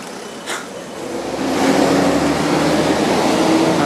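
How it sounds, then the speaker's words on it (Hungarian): Heavy road traffic heard from a bicycle, a broad close roar of passing vehicles that swells after a brief thump and stays loud and continuous. "Amikor már jó nagy a forgalom."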